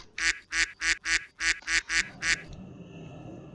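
Eight loud, evenly spaced duck quacks in a steady rhythm, close and clear, followed by a quieter background hum.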